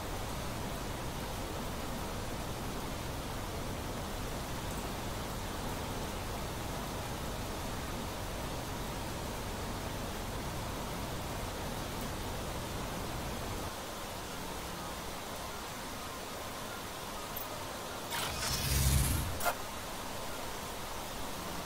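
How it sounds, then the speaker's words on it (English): Loud rain roars steadily as a dense broadband hiss, easing slightly partway through, with a brief louder rustle near the end. "Apologies, the rain is kind of loud."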